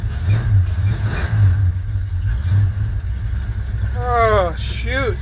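A Ford truck that has been sitting starts up on a cold 20-degree day with a weak battery. The engine revs loudly in repeated swells, a voice cuts in near the end, and the rumble continues underneath.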